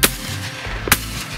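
Gunfire at the opening of duck hunting season: two sharp, loud shots, one at the start and one just under a second later, over a low rumbling outdoor background.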